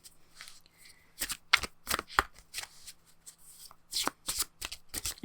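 Tarot cards are shuffled by hand in quick, sharp riffling bursts, about ten close crisp rustles with short pauses between them, in a quiet room.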